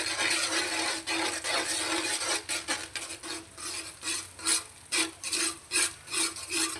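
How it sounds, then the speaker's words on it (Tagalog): Eggs being mixed in an oiled frying pan for stir-fried carrots and eggs, a steady scraping and stirring rasp with rhythmic strokes of the utensil against the pan, sizzling faintly underneath. "Lalagay na natin yung ating itlog. Then, i-mix lang natin."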